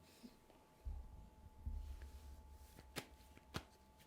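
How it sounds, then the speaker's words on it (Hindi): A deck of playing cards being shuffled during a card magic trick, giving soft riffling bursts and a few sharp flicks over low background noise. "अपने अकॉर्डिंग आप इसे शफल कर सकते हैं"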